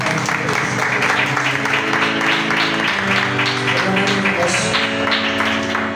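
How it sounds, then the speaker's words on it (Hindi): A congregation at a church blessing meeting claps loudly and steadily, a dense wash of applause over a sustained musical drone. "ऐसे ही जोरदार ताली बजेंगे"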